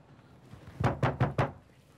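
Four quick, evenly spaced knocks on a cottage door in a crime drama, firm and close, alone in a quiet room.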